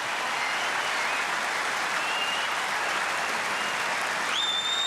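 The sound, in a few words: tennis crowd applauding and cheering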